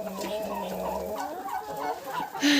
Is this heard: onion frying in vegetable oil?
no